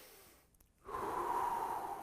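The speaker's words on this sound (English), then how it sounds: "breathing in." A single deep inhale through the nose, a brief pause and then a long, steady rushing intake of air, close and fairly quiet, with no talk.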